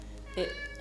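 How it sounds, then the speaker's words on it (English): A cat gives a single brief, fairly faint meow over a steady low background hum. "if you hear any meowing, that's Co-Pilot Cat"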